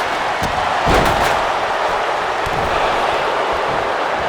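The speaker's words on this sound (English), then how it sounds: "Double axe handle. Oh, what a clubbing blow." A heavy double axe handle clubbing strike lands in the WWE 2K25 wrestling video game: one loud thud near the one-second mark, with fainter knocks later over a steady roar of arena crowd noise.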